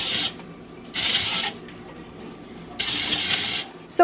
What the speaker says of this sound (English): I'm just folding this over until everything is combined and I don't see any flour.